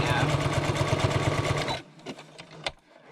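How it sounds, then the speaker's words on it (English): A sewing machine runs a zigzag stitch in a fast, steady mechanical chatter for under two seconds, then stops, leaving quiet clicks and handling sounds. "Let's just try a zigzag stitch, and then I'll know if there's a problem."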